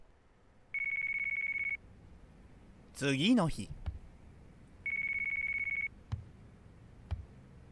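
A telephone rings in the Yakuza 5 video game as two separate bursts of steady, high electronic trilling, with a short stretch of speech between them.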